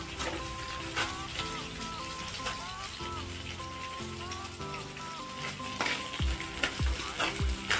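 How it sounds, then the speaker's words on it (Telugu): Chopped onions sizzle and fry steadily in a pan for a Telugu tomato pachadi, with occasional scraping stirs near the end and a faint musical tone running underneath. "ఇందులోనే మనం కోసుకున్న ఉల్లిపాయలు కూడా వేసేద్దాం."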